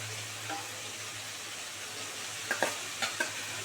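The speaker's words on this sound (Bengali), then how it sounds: "এবারে জল ঝাড়ানো ওলের ডাঁটাগুলো দিয়ে দিচ্ছি এর মধ্যে" Drained elephant foot yam stalks hit a hot pan with a soft steady sizzle, followed near the end by a few light clanks of a utensil stirring against the pan.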